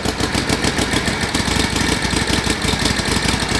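A smoky, still-cold 1949 Harley-Davidson WL flathead 45 motorcycle engine runs close up with a loud, rapid, even chugging beat from its exhaust pulses, with no voices.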